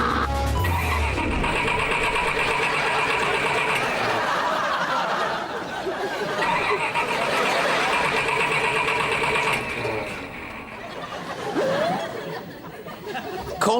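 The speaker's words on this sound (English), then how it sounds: "Call me picky, but that ignition doesn't sound good." A sputtering rocket engine ignition sound effect for a TV comedy, a rough, chattering roar that surges and dips with uneven crackles, with voices heard over it.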